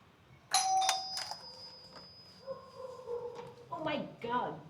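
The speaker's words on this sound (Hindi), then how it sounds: "डोरबेल कैसे चलाऊंगा मैं।" A doorbell chimes once near the start, followed by muffled voices and a small dog whining and yipping nearby.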